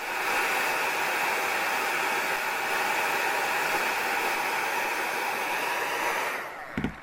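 A heat tool blows hot air over a shrink plastic flower charm in a steady, close, hissing rush that cuts off near the end, followed by a few faint handling knocks.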